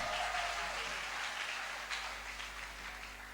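A church congregation clapping together, steady dense applause filling the room without pause and slowly fading slightly toward the end, no voices clearly standing out.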